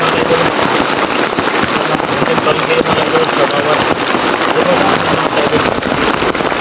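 Rain falls steadily in a loud, continuous hiss, pattering on surfaces close by with dense, even texture throughout.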